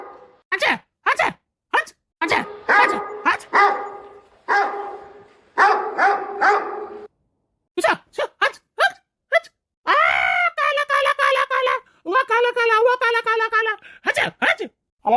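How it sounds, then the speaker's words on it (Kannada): A dog barks loudly and repeatedly in bursts of harsh, groaning barks, some stretched into longer howling yelps, close by in a village setting with brief gaps between volleys. "ಇದೇನಿದೆ ನಾಯಿ ಬಗಳ ಸೌಂಡ್"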